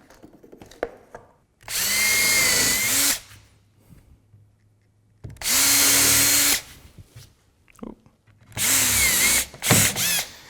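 A power drill countersinks screw holes in a wooden floating shelf, whirring in three loud, close bursts of a second or two each, separated by quiet pauses, with no talking.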